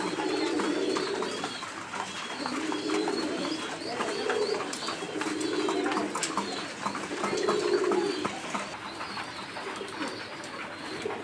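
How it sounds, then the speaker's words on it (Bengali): Bombay yellow pigeons coo in repeated low, rolling phrases about every two seconds while they peck at grit, backed by a steady bed of other bird chirps and ambient noise. "এই কবুতরটির জাত হচ্ছে বোম্বাই হলুদ বোম্বাই"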